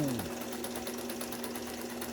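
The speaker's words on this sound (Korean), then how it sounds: "이렇게 부드럽게 재봉틀이 나가야 정상적으로 되는 거죠" A Brother 4010 home sewing machine runs smoothly with a steady, even whir and fine rapid needle chatter, close by and alone for the whole stretch after a brief falling tone at the start.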